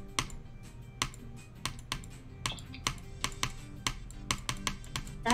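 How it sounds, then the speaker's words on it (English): Rapid, uneven keyboard typing clatters through a multiplayer race game session, sharp key clicks landing in bursts over a steady low background hum, with no talking. "That typing is so insane."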